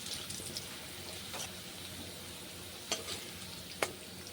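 Potatoes frying in oil in a pan, a soft steady sizzle with occasional light scrapes and clinks of a spoon, heard close and fairly quiet with no talking.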